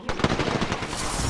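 Rapid automatic gunfire in the battle royale game Apex Legends, a dense burst of loud, closely spaced shots that rattles on for over a second without pause.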